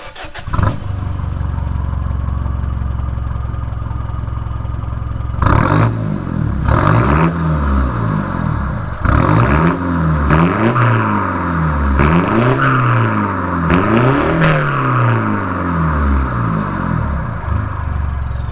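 A Mitsubishi Triton pickup truck engine with a new exhaust and bigger intercooler idles, then revs loudly again and again in rhythmic bursts through a throaty exhaust, close by with no talking.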